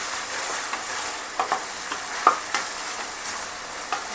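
Masala with finely chopped onion fries in a pan, giving a faint, steady sizzle broken by a few soft stirring clicks and scrapes, with no talking.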